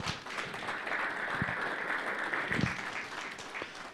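Church congregation at a Sunday service giving applause to a music group, soft, distant, continuous clapping with a few sharper claps standing out.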